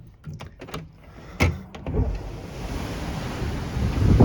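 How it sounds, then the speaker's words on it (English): Rough sea water churns and rushes beside a cruise ship moving faster than usual, a broad wash of surf and spray noise with wind buffeting the microphone, building louder toward the end. "with the ship moving faster than it would normally do, it's stirring up the waters a little bit"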